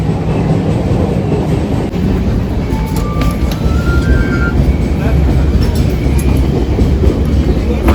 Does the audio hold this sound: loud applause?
no